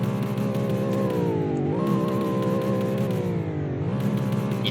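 A steady, droning engine of a 2024 Ford Mustang in a video game revs up and settles back twice, with faint crackling pops riding on top.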